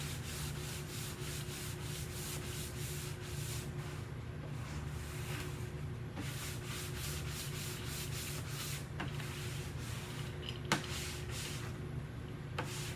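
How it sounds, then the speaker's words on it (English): Shelves being scuff-sanded by hand, giving a steady, continuous rasping rub with regular back-and-forth strokes, close and moderately loud, with no talking. "And it's not even an all-over sanding job. It's just a scuff over."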